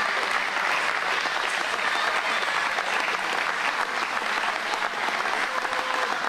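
Wrestling fans stand, cheer and applaud two wrestlers in the ring, a dense, steady roar of clapping filling the arena for several seconds, with faint whistles and shouts mixed in.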